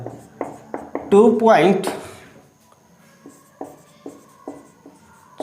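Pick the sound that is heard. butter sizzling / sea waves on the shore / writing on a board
writing on a board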